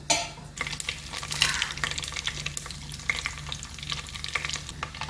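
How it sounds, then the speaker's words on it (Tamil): Mustard, fenugreek and cumin seeds splutter and crackle in hot oil in a pan, a dense run of sharp pops and sizzling over a steady fry, close and moderately loud with no talk. "கடுகும் வெந்தயம் சீரகம் எல்லாம் நல்லா பொரிஞ்சிருச்சு"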